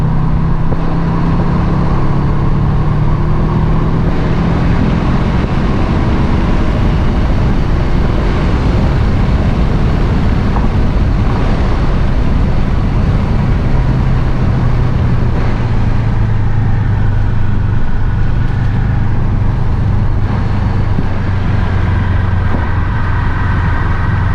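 A loud, steady turbocharged 2004 Subaru Impreza WRX engine roar under heavy acceleration with road noise, continuous and close throughout.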